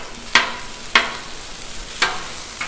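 Chorizo cooking on a very hot Blackstone griddle, heard as four sharp, close scraping or stirring hits spaced about a second apart over a faint steady sizzle, with no talking.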